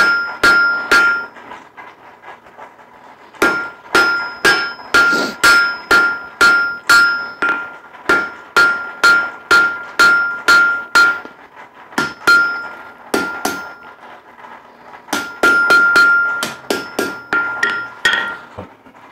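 Blacksmith hammering hot steel on an anvil to forge a steep spade-shaped point for a hook: loud, close, ringing hammer blows in rapid bursts of several strikes, separated by short pauses, with no talking.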